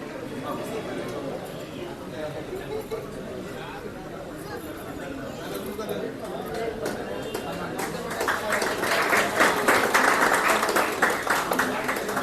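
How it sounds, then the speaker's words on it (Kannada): A crowd at a Bangalore pigeon-racing tournament breaks into clapping that builds toward the end, rising over outdoor chatter and public-address talk with birds faintly audible. "ಹೊಡೀರಿ ಸರ್ ಚಪ್ಪಾಳೆ"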